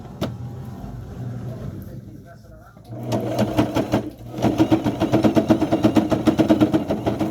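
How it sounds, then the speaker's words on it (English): Sewing machine stitching along a seam of a fabric bassinet, running in a loud, steady rapid chatter after a quieter stretch, with a brief pause midway and then a fast rhythmic burst of stitching. "So we are sewing alongside one of the seams."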